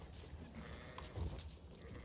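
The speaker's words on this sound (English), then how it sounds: "these spears are just gonna start killing off a bunch of sheep for no reason" Sheep bleating in an Age of Empires IV match as spearmen kill them, several overlapping bleats over a steady battle din, with faint talk underneath.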